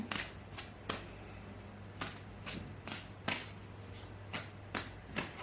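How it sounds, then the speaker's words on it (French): Oracle cards drawn and shuffled from a deck: a series of crisp, evenly spaced riffling snaps close by over a low steady hum, with no talking. "Alors, je tire encore 2 cartes pour terminer."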